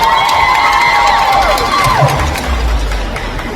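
A crowd cheering and clapping loudly in a large space, steady noise with shouts rising over it, easing slightly toward the end.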